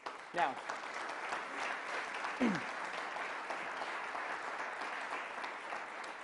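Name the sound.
audience applause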